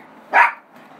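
A single sharp dog bark rings out close by, loud and brief, with a low room hum before and after it.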